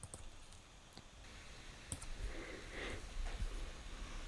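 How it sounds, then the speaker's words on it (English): A computer mouse clicks sharply a few times in a quiet room, accompanied by faint soft rustling and breathing. "I'm just going to click Save."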